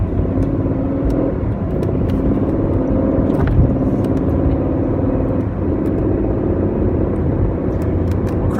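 A 2019 Aston Martin Vantage drives along with a steady, loud engine and road rumble, the drone holding fairly even, with only slight swells and no speech.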